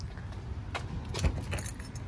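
Keys to a Toyota 4Runner jingle and clink several times close by, with a low engine rumble in the background.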